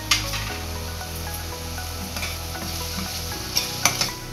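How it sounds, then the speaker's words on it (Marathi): Tomatoes sprinkled with salt cooking in a pan for prawn rice, a soft steady sizzle with a low hum, then a few quick utensil clinks near the end, close and without speech. "आता हा टोमॅटो आपण 2 मिनिटं जरा शिजू द्यायचा आहे।"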